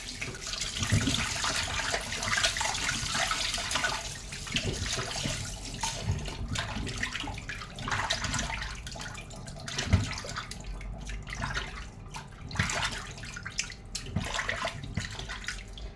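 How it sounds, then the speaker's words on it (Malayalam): Water running and splashing steadily into a sink, with irregular sloshing and clatter as sardines are rinsed by hand. "എന്നിട്ട് നമുക്കിത് വെള്ളം ഒഴിച്ച് മീൻ നല്ലതായിട്ട് കഴുകിയെടുക്കാം"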